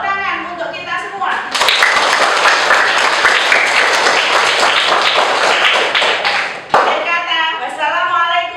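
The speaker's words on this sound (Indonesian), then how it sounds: "Tepuk tangan untuk kita semua" A classroom erupts into loud, close group clapping for several seconds after a voice at the start, then the applause breaks off abruptly and speech resumes.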